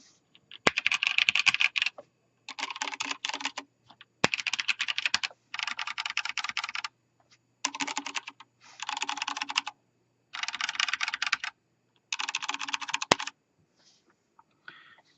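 Bursts of brisk typing alternate with short pauses on Vortex Race 3 and Drevo Excalibur mechanical keyboards with brown switches, the Race 3 with a steel plate; the close clacking comes in eight even runs.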